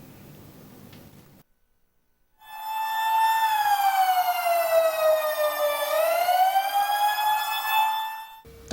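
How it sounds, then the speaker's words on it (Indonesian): A steady ceremonial siren wails loud and alone for several seconds during an Indonesian Proclamation Day ceremony at the Puspem Badung field, its pitch dipping slightly midway and then rising back. "detik-detik proklamasi ditandai dengan suara sirine selama 60 detik"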